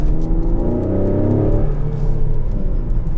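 Ford Explorer ST engine revving in sport mode, its sound piped into the cabin: a loud, steady mid-range drone that rises in pitch as the SUV accelerates and then holds a rumbling roar.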